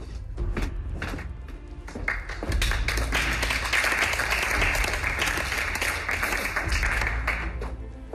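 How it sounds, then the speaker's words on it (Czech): A studio audience breaks into applause during a Czech TV talk show. The clapping builds from scattered claps into a loud, dense, sustained ovation. "Nevím teď, komu úplně patří ten potlesk,"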